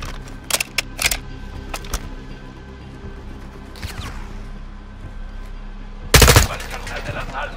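Gunshots ring out in the Call of Duty Modern Warfare II mission Recon by Fire. A few sharp, scattered shots come early, then a louder, tight volley of rapid fire near the end over a low background rumble.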